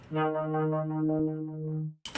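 A sustained, buzzy vocoded tone using a piano synth as carrier, with stacked piano-like harmonics, holds for about two seconds, then cuts off abruptly before a brief burst of noise.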